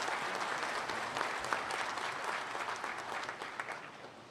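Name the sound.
graduation audience round of applause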